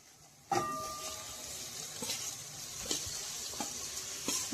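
Soybeans go into a yogurt gravy fried until the oil separates, a sudden sizzle followed by steady frying hiss and a few scraping stirs of a spoon against the pan.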